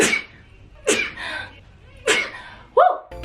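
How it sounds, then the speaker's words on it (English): A person sneezes sharply up close, two forceful bursts about a second apart, followed by a short breathy sniff. "Hold on, I gotta sneeze."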